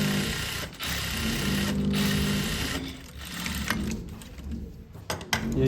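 A sewing machine stitching fabric in a tailoring class, its needle chattering in a fast steady rhythm that halts briefly a few times and then resumes.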